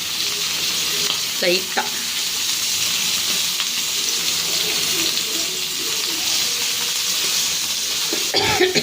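Beach-style fish fry with masala sizzles steadily in oil in a pan. The close hissing and crackling continues throughout, with occasional stirring scrapes and a cough, and someone speaks briefly.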